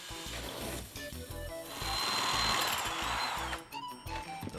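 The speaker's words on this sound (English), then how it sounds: "Holes are bored down through the ceiling drywall." A power drill bores holes up through ceiling drywall, whirring in short bursts with steady low motor pulses, close and fairly quiet, with one longer sustained run near the middle.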